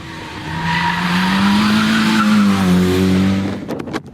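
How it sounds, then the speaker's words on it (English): A Renault Twingo GT race car with a turbocharged 1200cc engine launches off the line at a hillclimb, its loud engine note rising steadily with tyre noise for several seconds, then cutting off near the end amid a few sharp clicks. "So we've got another car leaving the line, Richard Greenwood in the Renault Twingo GT."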